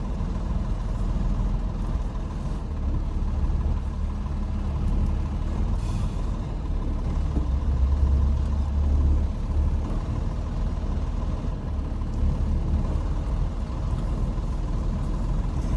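A semi truck backing up slowly toward a gate on a cold Minnesota day, its diesel engine a deep steady rumble throughout, with a brief air hiss partway through.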